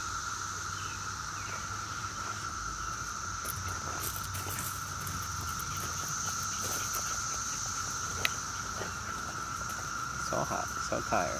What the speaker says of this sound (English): Merlin, how are the cicadas going?